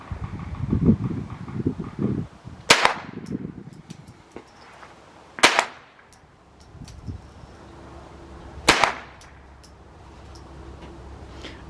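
.22 rifle shots fired at a target crack out three times, roughly three seconds apart. Each is a sharp, loud report over quiet outdoor background with some rustling.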